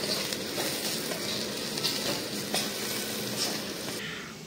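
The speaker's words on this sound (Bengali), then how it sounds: "একটু নেড়ে নেব।" Ground coriander and turmeric sizzle in a frying pan for a curry filling, a steady dense hiss with faint scraping as the spices are stirred, close and even throughout.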